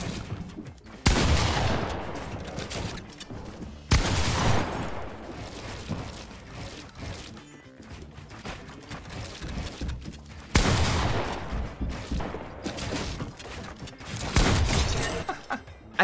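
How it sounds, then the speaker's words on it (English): Shotgun blasts fired in a console shooter game, several loud bursts spaced a few seconds apart, each with a sharp attack and a long ringing decay, over a busy background of game effects. "I've been hitting some pretty high damage shotgun shots with this."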